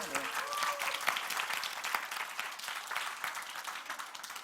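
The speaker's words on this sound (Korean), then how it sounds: "우리 감사의 박수 한번 올려드릴까요?" A church congregation claps in thanks at a youth worship service, a dense wash of applause that starts full and gradually thins, with some brief voices mixed in.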